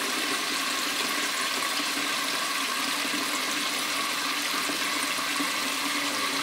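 Tap water gushes loudly and steadily into a pot being filled for boiling, a continuous rushing stream with no pauses.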